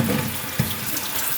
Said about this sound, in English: All I'm trying to do is to rinse everything out and give them a good wash.